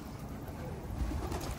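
A bird coos softly in the background, low and faint against quiet ambient noise.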